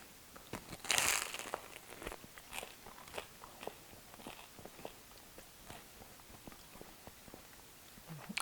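A crusty homemade sesame bagel is bitten, giving one sharp crunch early, then a run of quieter chewing and crackling crumbs, close and without speech.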